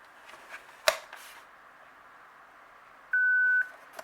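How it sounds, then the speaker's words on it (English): A VTech CS-6858 DECT 6.0 cordless phone gives a single clear electronic beep lasting about half a second, close and steady against quiet room noise, with a soft click shortly before. "this phone makes a beep"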